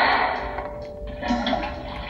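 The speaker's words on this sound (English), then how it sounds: "Yeah, I can just flush the toilet" Toilet flush in the horror game Spooky's Jump Scare Mansion, Karamari Hospital level: a loud, rushing gush of water that dips briefly and swells again, heard alone.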